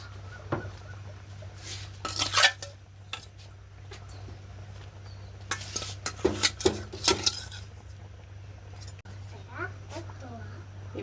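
Fish goes into a boiling pot for a home-cooked lunch, with clusters of metallic clanks and scrapes from the pot and utensils, loudest in two bursts, over a low steady hum.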